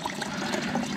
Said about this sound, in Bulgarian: Третата чешма имаше вече вода.